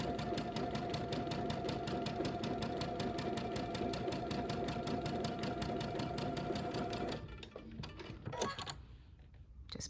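A sewing machine sews a Tula Pink butterfly quilt section in one long, even, rapid run up close, then stops, leaving soft handling noises.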